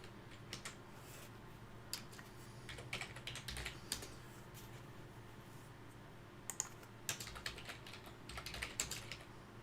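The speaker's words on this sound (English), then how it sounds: "we'll get this new keyboard going soon." Typing on a new computer keyboard with no voices, steady close clicking keystrokes in bursts and pauses over a low background hum.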